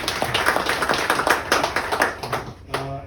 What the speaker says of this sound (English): One round of applause for our guest.